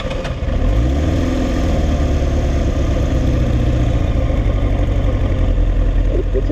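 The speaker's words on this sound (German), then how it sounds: "Einmal Zündung und starten." A Yamaha YZF R1 motorcycle engine, with a slightly damaged carburettor, starts and settles into a loud, steady, close idle that holds with even pulsing throughout.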